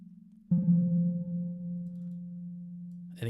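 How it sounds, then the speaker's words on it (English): A VCV Rack modular synth plays a steady, low sustained tone through a reverb effect with the delay switched off. It starts abruptly and holds evenly for nearly three seconds before cutting off. "I turned the delay off so we could hear just the reverb."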